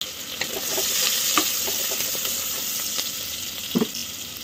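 Onions sautéing in a pan, a steady close sizzle with occasional light stirring scrapes and clicks, no voices.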